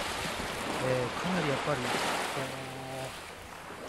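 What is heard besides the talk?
sea waves at the shoreline, Kotahama beach, Tsushima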